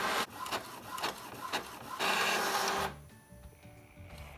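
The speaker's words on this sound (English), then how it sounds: "Now we finally are able to print a test page." An Epson EcoTank ET-2850 printer prints a test page with rhythmic mechanical whirring and clacking pulses, close and steady, then the motor noise drops to a quieter hum.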